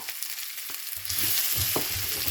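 Long-sliced onions go into a pan of melted butter and start frying, a soft sizzle rising after a quiet start and holding steady with small stirring knocks.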